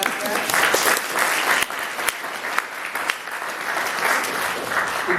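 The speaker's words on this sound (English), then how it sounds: "So let's give a round of applause for that." Steady audience applause fills a lecture hall after a talk on science and humanism, dense and sustained at moderate loudness with a few sharper individual claps standing out, no speech over it.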